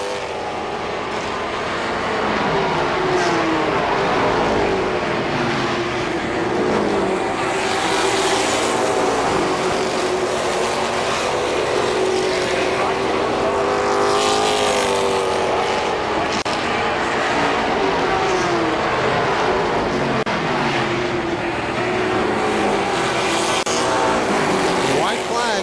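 Race cars at full speed on an oval speedway, a dense, continuous roar of engines with rising and falling passes as the pack circles the track, loud and unbroken throughout with no talk.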